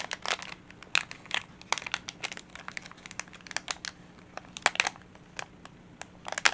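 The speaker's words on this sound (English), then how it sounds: "I'm just gonna open the bag" Plastic packaging on a nail art mystery box crinkles and rustles in a run of sharp, irregular bursts as someone struggles to rip the bag open, close and fairly quiet with no talking.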